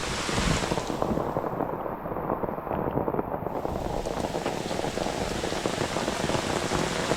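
Steady, dense rain falls outdoors in a Konkan forest, a continuous close wash of drops that stays even and full throughout with no pauses.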